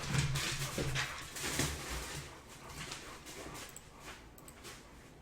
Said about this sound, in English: my dogs are going completely crazy if we hear them